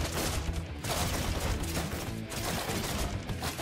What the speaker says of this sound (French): Mitrailleuse.